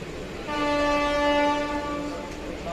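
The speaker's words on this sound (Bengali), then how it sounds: "শুধু হর্ন দিচ্ছে" A train horn sounds one long, steady blast over low rumbling, swelling then fading as it ends.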